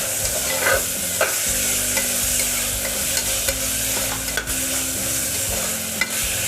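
Chopped tomatoes frying and being stirred in a pan for chicken bhuna masala, a steady loud sizzle with scraping stirs running throughout, without any voices.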